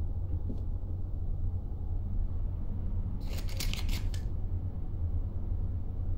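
A box of Allardyce matches shaken in Black Mirror 2, giving a short dry rattle of a few loose sticks midway, over a steady low rumbling room background.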